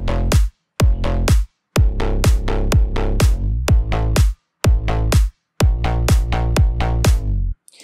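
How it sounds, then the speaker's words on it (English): Slap house bass from Ableton's Wavetable synth shaped with stock plugins, loud punchy synth bass notes in a rhythmic pattern with short gaps and downward pitch swoops, alone and up front. "I'm going to show you how to make a slap house bass sound like this"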